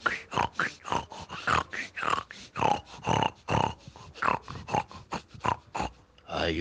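A voice growls and snorts in short rhythmic bursts, imitating an angry dog or werewolf, close and fairly loud throughout.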